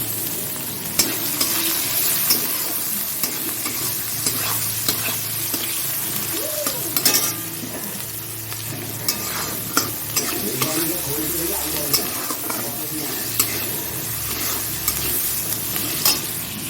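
Onions sizzle steadily in hot oil while a spatula scrapes and stirs through the pan with occasional light clicks against the metal.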